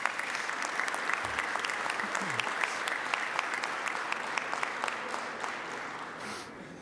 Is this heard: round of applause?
yes